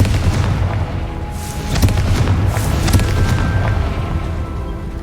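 A fiery Confringo spell explosion in the wizarding game Hogwarts Legacy, a loud booming blast with rumbling bursts and crackling debris, dense and continuous for several seconds.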